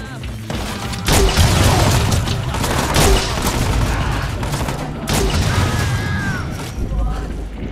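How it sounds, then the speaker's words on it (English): A grenade goes off in Watch Dogs 2 amid heavy gunfire: loud booming blasts and rapid shots crackle over several seconds of combat noise, with voices speaking over the action. "This is a grenade."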